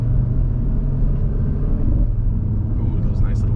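Audi RS3 (8Y) five-cylinder turbo engine in dynamic mode, a steady loud low rumble from inside the car with a brief fluttering chirp near the end, under people talking.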